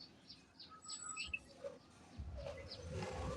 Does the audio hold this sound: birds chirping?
yes